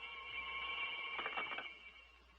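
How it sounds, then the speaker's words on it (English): An old-fashioned telephone rings in a radio drama, a steady electric bell tone with a burst of rapid trilling in the middle, moderately faint and heard alone. "I got the first of the phone calls."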